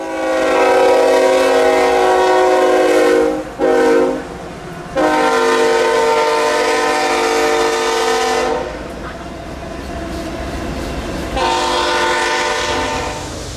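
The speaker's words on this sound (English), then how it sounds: "this time of southbound autorack train" A southbound autorack freight train, Q237, rolls past a railroad depot in heavy rain, its loud multi-tone horn blaring in long blasts with brief breaks, wheels clattering underneath throughout.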